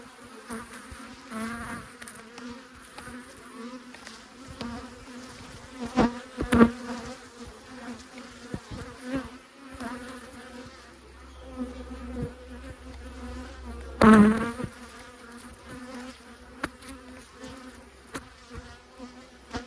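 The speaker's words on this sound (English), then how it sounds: "these bees are not happy" Steady dense buzzing of many agitated honey bees around a hive, with louder passes as individual bees swoop close to the microphone, continuous throughout.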